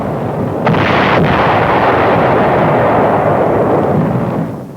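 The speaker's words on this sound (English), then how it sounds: "Preliminary shelling clears the beach of enemy opposition" Artillery shelling and bombing pound the rocky Caballo Island hillsides in a continuous, loud roar of blasts, with two sharp cracks standing out early before the rumble fades slightly at the end.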